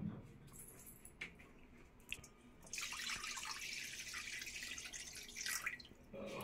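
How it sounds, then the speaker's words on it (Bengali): Water poured into a kadai (wok) to boil cut jackfruit for a Bengali echor dalna, a steady rushing splash building up partway through, close and fairly loud with no talking. "তার জন্য কড়াতে এবার জল দেব।"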